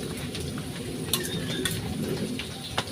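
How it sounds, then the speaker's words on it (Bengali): Onion with ginger-garlic paste fries in hot oil for a Bengali prawn and yam curry, a steady close sizzle with a few sharp stirring scrapes over it and faint bird calls far in the background. "এবার এটা ভালো করে তেলের মধ্যে কষিয়ে নেব যাতে গন্ধটা না থাকে আদা রসুনের।"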